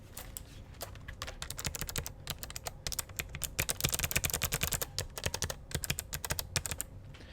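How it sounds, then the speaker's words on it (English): Fast typing on a HAVIT HV-KB395L low-profile mechanical RGB keyboard right beside the mic, crisp dense clacks in rapid bursts growing louder midway, with no talking. "You guys can hear just how nice these sound."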